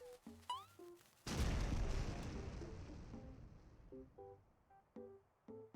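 A grenade card from the deckbuilder game Diceomancer sets off a single booming blast that rumbles and fades over a few seconds. Short chiming music notes come before and after it.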